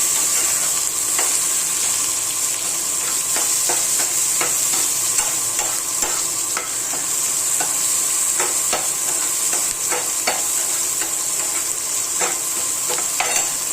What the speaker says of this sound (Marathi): आता बघा कांदा ब्राऊन कलर होईपर्यंत भाजलेला आहे